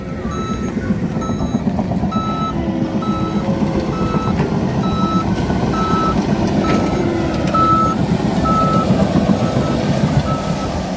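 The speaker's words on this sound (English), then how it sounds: "They put a backup alarm on it because they don't want nobody to get ran over down in this pond." A loud, steady excavator backup alarm repeats over the heavy rumble of the large diesel excavator digging a pond nearby.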